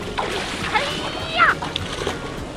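Water splashes and sloshes in a homemade backyard water-play waterfall, heard as scattered light splashes with a louder one midway, while children's voices and chatter sound over it.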